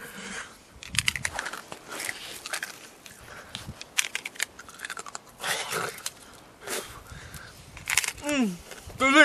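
A man crunches and chews an icicle outdoors in a cold winter setting, bite after bite in irregular bursts, with brief talk and a short vocal exclamation near the end.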